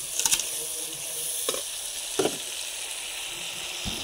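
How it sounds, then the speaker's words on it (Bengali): Chicken cooks over a wood-fired clay stove with a steady frying sizzle and hiss, broken by a few brief clatters of stirring, close by with no voices. "এখানে মাটির উনুনে আমি মাংসটা রান্না করছি"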